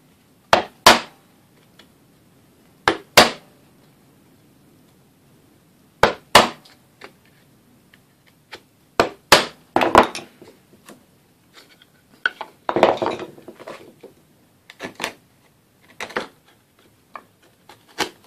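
A wide wood chisel cutting a mortise, with sharp separate knocks and taps on the wood arriving in irregular clusters with pauses between, close and crisp.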